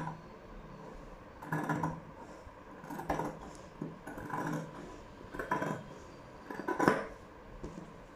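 Tailoring scissors cut through blouse fabric in a sewing class, a quiet close series of about five separate crunching snips spaced roughly a second and a half apart, with no speech.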